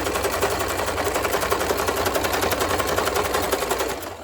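Sewing machine stitching ribbon onto a baby's cloth diaper with a presser foot, a loud, steady rapid mechanical rattle running continuously before slowing and stopping at the end.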